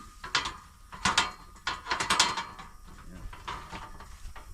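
An old abandoned windmill's mechanism turns and hangs up on bolts, giving irregular metallic clunks and ratcheting knocks at close range, with quieter grinding between them.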